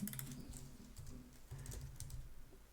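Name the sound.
typing on a computer keyboard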